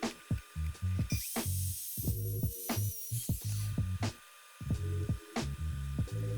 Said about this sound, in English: I'm using just a 1/4 inch straight cut bit to do the bulk of the work, and then I'm coming back with a 3/8 inch dovetail bit